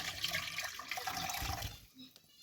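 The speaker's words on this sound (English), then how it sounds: "Now I've got a bowl and a strainer and I am going to pour" Soaked fruit and its liquid for a Bara Brith fruit loaf are poured through a strainer into a bowl, giving a steady close splashing trickle for about two seconds before it stops.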